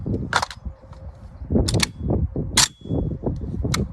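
Rifle gunfire fed from a Shooting Sports Innovations 29-round magazine: several sharp, loud shots spaced irregularly across a few seconds, each a crisp crack with a brief trailing echo.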